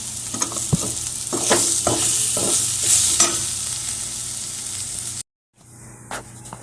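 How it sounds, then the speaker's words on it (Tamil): Spices and chicken masala sizzle steadily in a hot pan while a utensil scrapes and taps against it several times, then the sound cuts out briefly. "இப்போ நான் வதக்க போகிறேன்"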